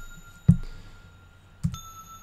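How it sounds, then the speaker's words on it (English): Metallic bell-and-mallet patch from a Korg M1 synthesizer, two separate struck notes about a second apart, each a sharp attack with a ringing tonal tail, played alone at moderate level. "So a mallet, like a metallic kind of sound. Yeah, we've got bell and mallet."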